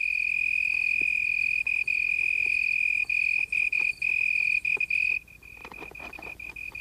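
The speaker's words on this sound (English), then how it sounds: "The leaf is the cricket's soundboard, and the sound produced is magnified in intensity as much as 3 times." A cricket on a leaf that serves as its soundboard, magnified up to threefold, gives a steady, loud, high-pitched continuous trill with faint tapping and rustles beneath, the tone dropping in level near the end.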